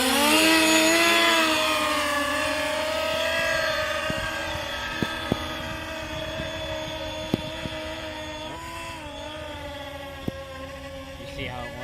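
An SLT VTOL model aircraft on its maiden flight in forward flight mode, with a steady whining electric motor buzz whose pitch wavers and slowly drops, loud at first then easing, with a few sharp ticks over it.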